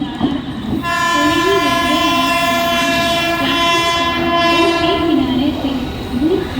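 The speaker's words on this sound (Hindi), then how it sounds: "Platform number 2 fast train is passing." A fast train speeds through a platform at an Indian railway station, sounding a long, loud, steady horn blast close by over the heavy rumble of the passing cars.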